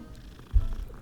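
Short low purr from a cat in the Hogwarts Legacy game, a soft rumbling swell lasting under a second against quiet background.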